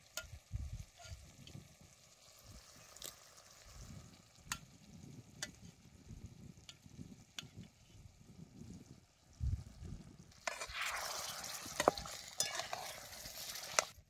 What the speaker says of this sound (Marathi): आता यातले शेंगा गाळून गाळून आता यात घालायच्या